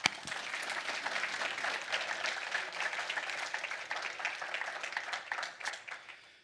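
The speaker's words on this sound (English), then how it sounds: "Let's give these guys a round of applause." Sustained applause from a church congregation honoring fathers, steady and fairly distant, with a sharp clap at the start and the sound slowly thinning toward the end.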